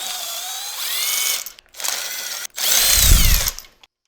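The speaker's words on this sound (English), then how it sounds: "then I'll spin them out with the drill" A power drill spins spark plugs out of a hemi-headed LS V8 engine, its whine rising and falling in three close bursts separated by brief pauses, with a deeper mechanical rumble in the last burst.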